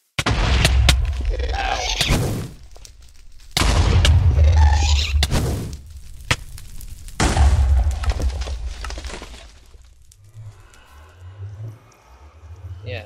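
A custom cactus mob in Minecraft shoots fireballs in three loud, booming bursts spaced a few seconds apart, followed by quieter, scattered game noises, and a voice briefly cries out.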